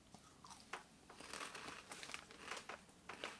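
Veggie cheese puffs from The Curators are bitten and chewed close up, a run of dry crunchy crackles and crinkles repeating over a few seconds with no talking.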